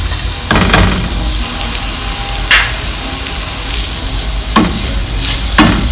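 Ginger garlic paste and chopped green chilli fry in a pan for chicken cutlets, a loud close sizzle broken by several sharp scraping strokes of a spoon stirring at irregular intervals.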